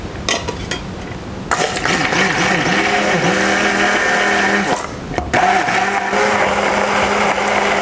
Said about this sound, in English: we're going to blend it up using the immersion blender here